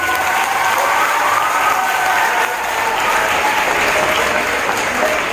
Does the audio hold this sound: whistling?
no